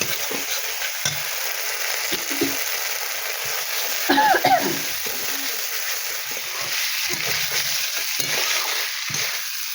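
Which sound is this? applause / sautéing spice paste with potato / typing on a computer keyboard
sautéing spice paste with potato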